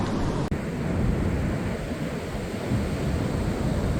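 Waves surge on the shore at night during sea bass and squid fishing, a loud continuous roar of surf with heavy low wind rumble buffeting the microphone, and no voices.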